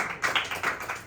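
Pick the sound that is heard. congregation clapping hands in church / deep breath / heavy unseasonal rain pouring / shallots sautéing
congregation clapping hands in church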